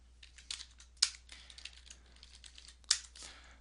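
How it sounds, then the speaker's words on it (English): Fingers typing a short command on a computer keyboard, a quiet patter of keystrokes with two sharper key hits standing out, no voices present. "I'm going to type CMD, and that will bring up command prompt"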